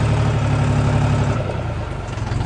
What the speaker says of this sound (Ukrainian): М'яко заводиться, м'яко працює, м'яко перемикається, друзі.